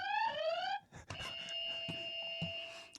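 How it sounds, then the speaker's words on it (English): Electronic buzzer tones sound, a rising warbling beep followed by a sustained steady buzz, with a few clattering knocks and faint movement around it. "we have different buzzers, but similar to last time where they make noises"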